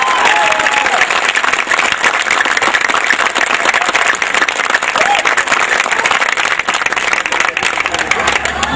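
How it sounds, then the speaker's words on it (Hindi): An audience at a Hindi comic poetry gathering (hasya kavi sammelan) claps loudly and continuously for the songs just recited, with a voice talking over the sustained applause. "एक बार गीतों के लिए तालियां बजा दें।"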